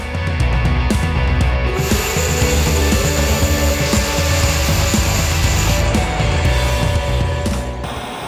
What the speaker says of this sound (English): I'm now just going to get the sander out and just smooth it off, level, and finish it off so that they're all the same length